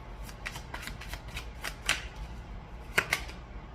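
Tarot cards shuffled by hand in a quiet room: a steady run of quick, soft riffling bursts with a few sharper snaps, close by and with no talking.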